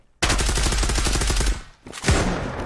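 Rapid automatic gunfire in a first-person shooter match, a loud sustained burst of evenly spaced shots followed by a brief pause and a second, shorter volley, with no talking over it.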